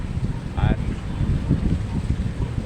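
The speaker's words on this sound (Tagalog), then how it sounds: "sobrang lakas po kasi ng hangin kaya hindi po tayo makapag shoutout ng maayos" Strong wind buffets the microphone outdoors during tilapia fishing, with a constant low rumble and gusty roar, and a brief voice is heard partway through.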